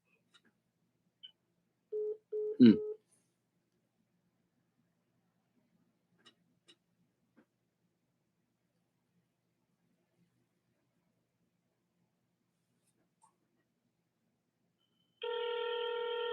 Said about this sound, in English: I'll call your house, alright?